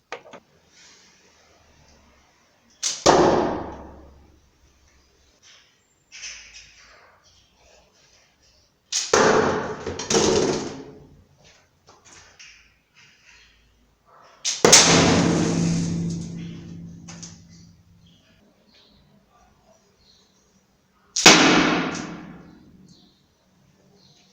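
A slingshot fires arrows in four separate test shots, each a sharp snap and whoosh followed by a decaying thud, with quiet gaps between.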